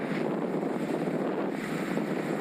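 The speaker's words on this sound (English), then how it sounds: "It's very windy, the wind's coming from the side." Strong gusting crosswind roars steadily across the microphone of a cyclist riding a Scott Addict RC road bike near Sutton Common, a dense, loud rush with no break.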